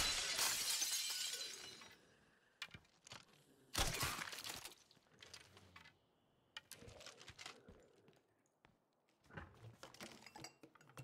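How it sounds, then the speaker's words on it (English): Glass shatters loudly in the State of Decay 2 video game, one long crashing burst at the start and a second sharp smash a moment later, followed by scattered tinkling debris and softer clatters. "They didn't hear that glass break?"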